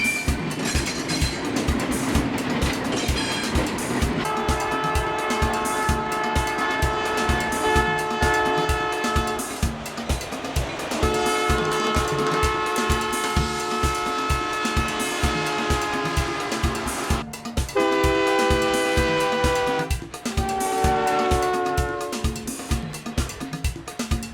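An ALCO RS3 diesel locomotive with a 251 engine chugs steadily with a throbbing low rhythm, while long horn blasts sound loudly over it several times.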